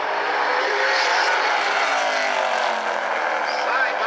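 Super late model race cars at South Sound Speedway roar past in a dense, continuous engine drone while a commentator talks over it.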